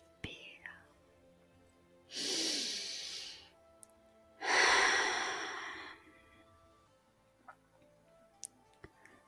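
Two slow, breathy exhalations during a guided group meditation, each a soft airy rush lasting a couple of seconds, close and quiet against near silence with faint ticks between.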